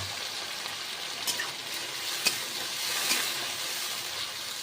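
A paste of onion, ginger, garlic and tomato fries in hot oil for a lentil-fritter curry, giving a soft, even sizzle with a few sharp utensil clinks, close by and without speech.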